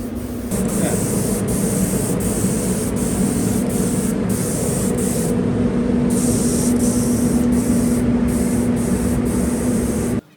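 A spray gun lays colour and clear coat on a Ducati 916 motorcycle, a loud steady hiss with a low compressor drone beneath and brief pauses in the spray, cutting off sharply at the end.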